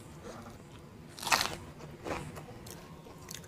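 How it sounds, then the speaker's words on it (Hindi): Two crunchy bites into bread with spicy chilli paneer, a louder crisp crunch followed by a softer second bite, close up with no talking. "एक बाइट लेते हैं।"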